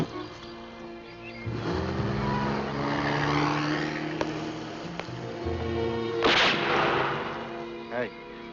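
Rifle gunfire in a 1968 adventure-series scene, where a couple of sharp reports ring out among a rumbling, echoing backdrop of engine-like drones and blasts, fairly loud and reverberant.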